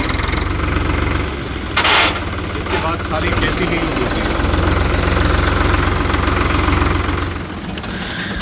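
A VST Shakti 9054DI tractor diesel engine idles with a low, steady knocking rumble while someone talks over it; a brief bang interrupts early on.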